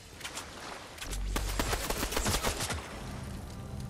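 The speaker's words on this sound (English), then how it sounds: "Crap, they're shooting me, dude." Enemy gunfire in a jungle battle-royale video game, a dense flurry of rapid, close shots clustered in the middle seconds over a low background, with no speech.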